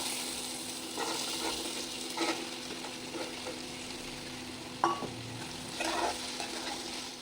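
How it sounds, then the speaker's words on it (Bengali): Small square-cut potatoes fry with kalonji seeds in a pan for Bengali aloo posto, with a steady close sizzle and occasional spoon scrapes and taps while being stirred, no talking. "একটু পোড়া পোড়া করে ভাজাটা করেছি"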